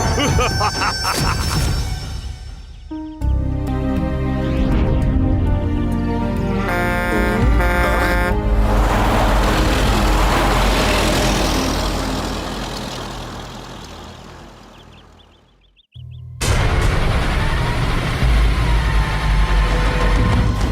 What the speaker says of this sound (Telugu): ఆ లారీలు వేరే వేరే కంపెనీల నుంచి వస్తున్నాయి